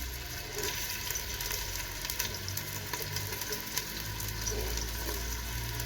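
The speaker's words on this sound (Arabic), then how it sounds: "دلوقتي بقى الزيت سخن والزبده خلاص اهيت اندمجت معاه. انزل البصل بقى كده" Onions dropped into hot oil and melted butter for a shrimp soup fry with a steady, dense crackling sizzle that holds at an even level throughout, close and without voices.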